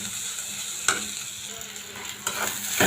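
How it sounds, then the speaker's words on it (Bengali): Onion and green chili sizzling in a pan, a continuous frying hiss with a few sharp scrapes of a stirring spoon, no voices. "পাত্রে পেঁয়াজ এবং কাঁচামরিচ নিয়েছি, লাল লাল করে ভেজে নিতেছি।"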